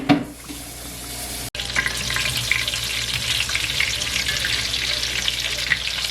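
Food sizzles and crackles loudly in hot oil, a dense steady frying hiss with occasional pops after a brief clatter at the start.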